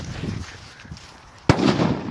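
A Monster 5 firecracker goes off in a single sharp, loud bang outdoors, preceded by low rumble and faint background murmur, with a noisy tail of debris and voices right after the blast.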